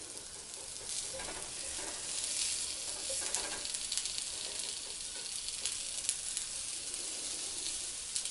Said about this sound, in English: And you can hear that sizzle when it meets the pan.